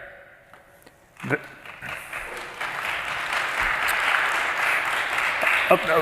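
A crowd at a First Amendment summit panel breaks into steady applause that swells and holds, dense clapping filling the room after a brief quieter moment.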